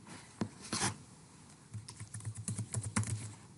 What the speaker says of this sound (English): now to add in text, I just start typing in the box as long as my cursor is there